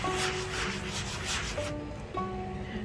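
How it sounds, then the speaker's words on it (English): Rhythmic back-and-forth scraping of a sanding block on paper, close up, with strokes fading toward the end over a faint background hum. "I'll take a sanding block and just get this kind of started"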